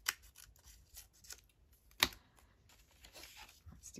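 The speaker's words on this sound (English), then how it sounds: "I'm just doing a really whizzy, fussy cut here." Scissors snip paper in quick fussy cuts for a handmade paper bag, a series of close, crisp clicks with one sharp louder snip midway, alone and fairly quiet.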